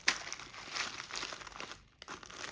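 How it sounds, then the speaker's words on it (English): A sticker is peeled off the packaging of a light pink 2024 Chanel wallet on chain, giving a soft, close crinkling and tearing rustle that comes in short uneven bursts with a brief pause near the end. "Just carefully remove the sticker here."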